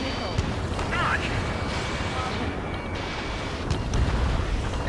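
Missile launches and explosions in the Ace Combat 7 jet combat game, a dense continuous roar of booms and whooshing bursts with no gaps across the stretch, steady and loud throughout.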